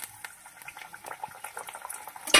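Water chestnut flour kachori fry in hot ghee over medium heat, giving a soft, sparse bubbling crackle close up that ends with a brief utensil clatter.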